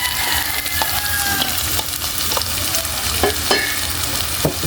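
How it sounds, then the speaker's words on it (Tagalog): Sponge gourd (patola) sautés in a hot pan with a steady loud sizzle and frying crackle, and a few scraping stirs of a utensil stand out near and alone. "At igisa na rin natin yung patula,"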